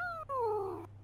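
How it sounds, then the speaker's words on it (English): Pet cat Izzy meows once while being picked up, a close, drawn-out complaining cry that dips briefly and then falls in pitch before stopping. "Should we put the cat down?"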